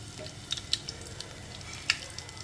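Mustard seeds and garlic sizzle in hot oil for a brinjal tomato curry, a steady close frying hiss punctuated by a few sharp pops and crackles, with no voices.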